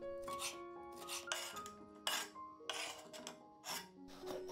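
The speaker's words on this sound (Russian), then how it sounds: "Кальмары нарезаю тонкой соломкой." A kitchen knife cuts boiled, peeled squid into thin strips on a board, giving a series of soft, separate cutting strokes in an uneven rhythm, quiet and close, under a steady musical tone in the background.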